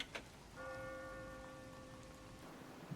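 Rain falls softly and steadily in Master Detective Archives: Rain Code, a faint even hiss behind a quiet sustained tone, with no voices.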